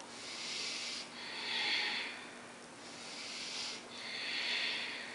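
Deep rhythmic breathing during a floor exercise routine, with steady airy inhales and exhales alternating in long, close, soft waves of breath noise.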